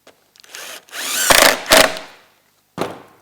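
A power drill drives screws into a sled deck while fitting Caliber Lowpro grip glides, giving several short whirring bursts close by, the longest near the middle, with a brief final spin after a pause.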